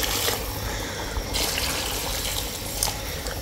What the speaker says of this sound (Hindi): अभी हम इसमें डालेंगे पानी